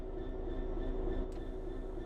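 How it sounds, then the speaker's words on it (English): Train starting to move in Train Sim World 3: a steady low rumble with a sustained mechanical hum and faint tonal whine, constant and fairly quiet throughout, with no talk. "Let's get the train moving and see it all working."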